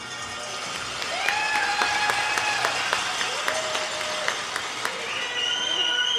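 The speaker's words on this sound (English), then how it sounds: "let's give a warm round of applause to the 8 men's and women's championship teams" Steady applause from a curling crowd, sustained throughout, with scattered sharp knocks and whistle-like tones running over the clapping.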